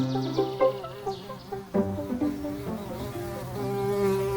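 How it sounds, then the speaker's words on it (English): A bee buzzes in a kids' storytime podcast, its whining hum rising and falling in short swoops and wavering tones, near and fairly loud, with no talking. "The bee is coming after us! It wants to sting us!"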